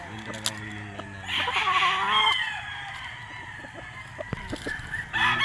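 A White Kelso gamefowl rooster at a game farm crows once, fairly close and clear, amid soft clucking and faint farmyard background.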